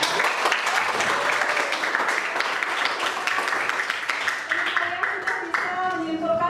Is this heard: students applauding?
yes